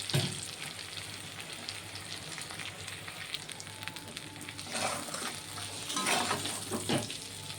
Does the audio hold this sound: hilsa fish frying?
yes